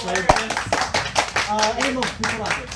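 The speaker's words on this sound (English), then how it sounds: "Everybody, clap your hands" Several people clap in a quick, uneven rhythm while voices talk over it, close and moderately loud.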